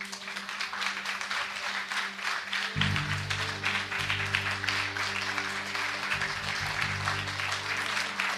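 A church congregation applauds together, a dense and steady patter of many hands that runs the whole time, with a low sustained tone underneath.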